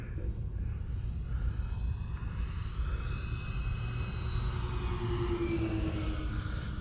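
An FMS F7F Tigercat RC model airplane flies at just under three-quarter throttle, a steady droning whine of its electric motors that slowly shifts pitch as it passes low, with rushing wind noise and no talking.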